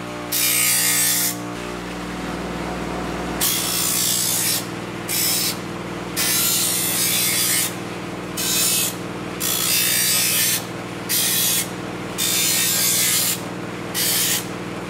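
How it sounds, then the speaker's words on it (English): A bench grinder smooths the cut edges of leather shoulder holster pieces. Its motor hums steadily the whole time while abrasive contact comes in repeated bursts of rough grinding, each a second or two long, with no talk. "Now I'm going to take these over to my grinder and just fare off the edges so there's nothing rough left over"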